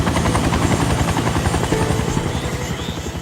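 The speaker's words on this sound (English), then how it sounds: "we heard a helicopter, and it was such a welcoming sound" A Coast Guard helicopter arriving at a crash site gives a steady, loud rotor chop with a rapid rhythmic thump throughout, no talk over it.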